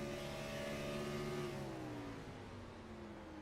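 Simulated race car engine in iRacing at Chicagoland, a steady high revving drone that eases downward as the clutch goes in and the revs settle, loud and continuous with no talking.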